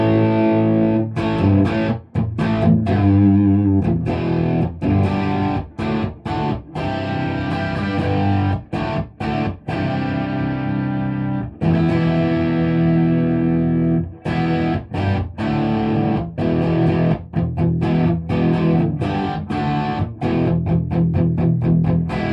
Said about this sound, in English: let's go to the mild or rhythm distortion.